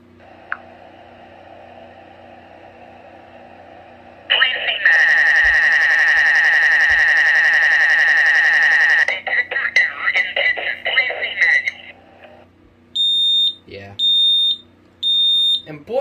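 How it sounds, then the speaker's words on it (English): A loud, high-pitched Signal 1 Safety vocal smoke alarm blares steadily, then pulses in short beeps, with a recorded voice message heard between alarm bursts. "The next one we got is a Signal 1 Safety Vocal Smoke Alarm."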